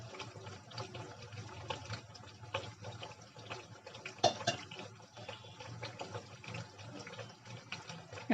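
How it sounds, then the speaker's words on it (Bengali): Potato slices frying in oil for homemade crispy chips, a steady dense hiss and crackle with scattered pops and a few louder clinks, continuous and fairly close. "প্রথম অবস্থায় আমার আলুগুলো রান্না হচ্ছে, তারপর এটা ফ্রাই হয়ে যাবে"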